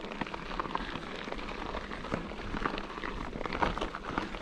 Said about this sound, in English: it's starting to rain a little harder now